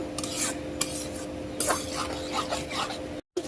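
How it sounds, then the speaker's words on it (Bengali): Spices and salt are stirred and fried in a pan for a shrimp curry, making continuous scraping and rasping with soft sizzling and a few sharper utensil strokes against the metal. "এখন নাড়া দিয়ে দিব, মশলা কষাই নিব সুন্দর করে"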